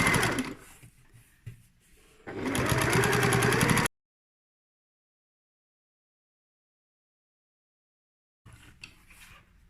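A sewing machine runs stitching lines along the edges of a lined tote bag, a close, whirring burst of needle strokes in short runs that ends abruptly, followed by silence and then faint handling noise.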